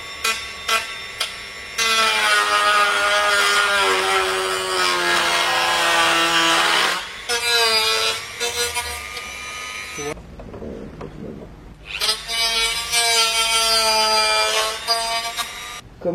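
A power drill boring a hole into the metal of a car bumper: loud, sustained whining bursts that start, stop and resume, with brief pauses and a short quieter gap between runs.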